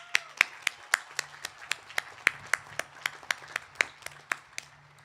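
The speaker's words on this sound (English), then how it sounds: "So I want to give you all a round of applause." A small group claps at a college commencement ceremony in a steady, moderately paced rhythm, with sharp individual hand claps rather than a dense crowd roar.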